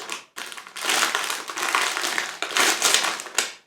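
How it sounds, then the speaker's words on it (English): Plastic cracker packaging crinkles and crackles loudly close to the microphone, in two long bursts of rustling with a brief pause between them. "lots and lots of plastic here"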